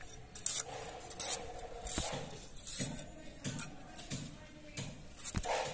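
Ginger being chopped with a knife for a village fish and cauliflower dish, a run of close, sharp dry knife strikes in uneven rhythm, with a few louder chops standing out.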